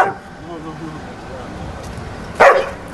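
A guard dog, a female with her pup, barks at a hotel: one short, loud bark near the end, with voices talking before it.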